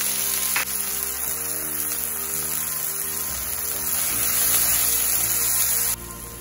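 Steady, loud sizzling of ginger frying in hot oil with onion, continuous throughout with some clattering of a utensil underneath.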